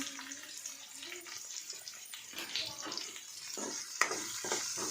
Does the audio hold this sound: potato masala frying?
yes